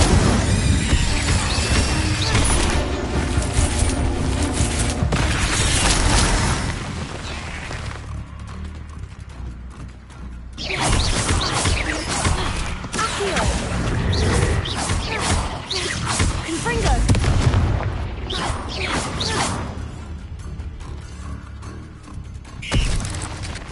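Rapid barrage of fire and blast spells, Incendio and Confringo, erupting in a fantasy wizard video game, dense crackling bursts and booms packed together, loud and near, with brief lulls between waves.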